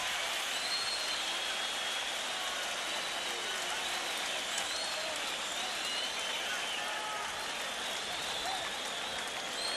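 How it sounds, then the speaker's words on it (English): Boxing arena crowd roaring and applauding after a 1983 fight, a dense, sustained wall of cheers and clapping at steady loudness throughout, with a commentator's voice audible over it. "Let's listen to that crowd"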